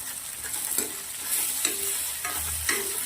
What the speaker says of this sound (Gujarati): આપણા ભીંડા તેલમાં સરસ મજાના શેકાય છે.